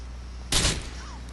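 A single short burst of SMG fire in Grand Theft Auto IV, a sharp, loud crack lasting under half a second, then fading into quiet background.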